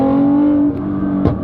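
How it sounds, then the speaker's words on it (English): A car engine holds a steady rev, then drops off with a downshift and a quick throttle blip, a short loud burst heard close over about a second and a half, with no talking. "and just blip the throttle,"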